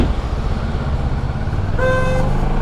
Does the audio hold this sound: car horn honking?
yes